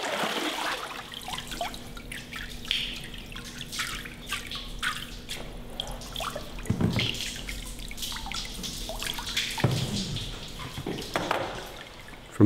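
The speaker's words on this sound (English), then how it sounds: "shake the mold so the pulp settles evenly before the excess water drains through the porous surface" Excess water draining from a papermaking mould of pulp at a vat in a hand papermaking workshop, a close, steady trickle and patter of drips with a few louder splashes, no talk.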